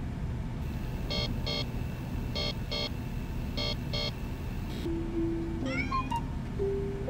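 A cat meows repeatedly in the video game Amanda the Adventurer, several clear close meows alone over soft background music with electronic beeps.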